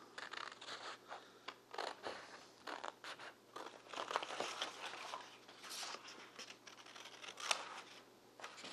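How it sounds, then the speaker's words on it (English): Scissors or a blade cut through cardboard templates for a knife sheath, giving quiet, close, irregular scratchy snips and rustles. "So now we just cut these little cardboard templates out."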